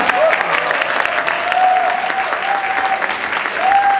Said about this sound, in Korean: 아 박수 한번 칩시다.